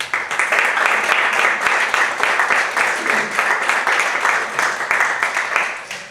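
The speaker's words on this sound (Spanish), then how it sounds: "Un aplauso muy fuerte para ellos, por favor." A book presentation audience claps steadily, a dense, even patter of many hands that stays level from start to finish.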